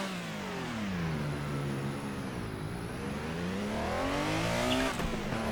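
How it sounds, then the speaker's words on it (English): A 1970s Porsche 911 Carrera RSR 3.0 race car's naturally aspirated engine revs steadily through the gears in a video game, its pitch climbing and dipping in smooth sweeps, loud and continuous with no voices. "It's very linear, naturally aspirated engine."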